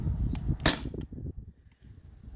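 A Sabre 68 home defense launcher fires a single shot outdoors, a sharp close crack with a brief tail, set against a low rumbling background.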